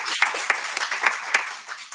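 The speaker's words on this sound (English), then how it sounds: "So one last round of applause, I suppose, for Andrew." Lecture audience giving a final round of applause after a medical talk, a faint, scattered patter of claps heard at a distance.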